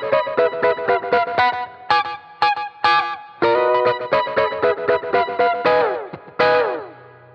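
An electric guitar intro to a song, with rapid bright picked runs, layered echo-like repeats and effects coloring, played in quick rhythmic bursts.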